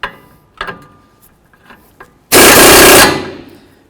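An impact or power tool drives the outer tie rod end nut tight on a 2008–2012 Jeep Liberty front knuckle, with a single loud rattling burst of about a second after a few faint clicks and taps.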